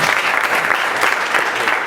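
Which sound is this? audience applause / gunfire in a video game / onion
audience applause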